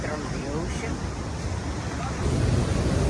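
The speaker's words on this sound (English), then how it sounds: "Waves are beautiful and deep." Ocean surf at a beach at day's end, a continuous broad roar of breaking waves mixed with wind buffeting the microphone, growing louder toward the end.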